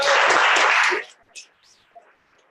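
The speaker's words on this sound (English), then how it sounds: "So I just like to give Mafundi a clap" A conference audience claps in gratitude in a dense, loud burst for about a second, then it cuts off, leaving a few faint trailing claps and room noise.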